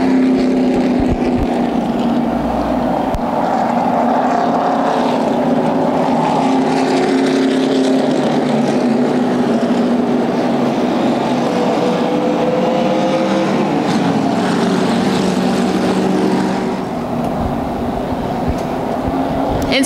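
Late model race cars roar away on a restart at an oval racetrack, a dense, sustained engine drone with shifting pitch as the pack passes.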